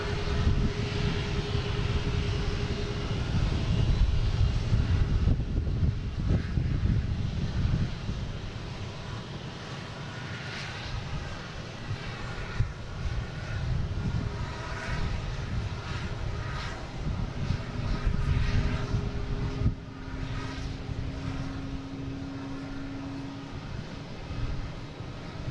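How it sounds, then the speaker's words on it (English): A United Boeing 737 MAX 9 takes off from Boston Logan bound for Chicago, a sustained heavy engine roar with wind buffeting that swells early and then eases but stays present throughout, with no voices. "we get United taking off, heading to Chicago. Flight number 2040, 737, MAX 9"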